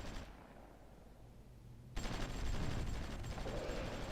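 Gunfire from the wartime strategy game Supreme Ruler Ultimate, with troops taking fire from Belgium. A quiet stretch breaks into a dense, steady rattle of distant shots that carries on to the end.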